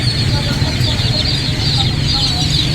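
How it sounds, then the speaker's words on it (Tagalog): Chicks at a market stall peep in a constant high chorus with steady background bustle and murmur around them. "Dito medyo may mga sisiw,"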